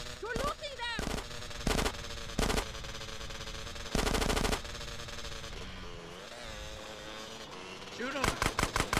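Video game gunfire in GTA San Andreas, several sharp bursts of automatic shots in short clusters over game music, with in-game voices heard between the bursts and a rapid volley closing it out.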